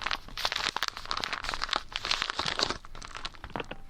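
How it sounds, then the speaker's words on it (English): A teaspoon scoops into brown sugar, making a close, continuous gritty crunching and rustling with dense granular scraping throughout and no talking. "the next stage is a big teaspoon of brown sugar"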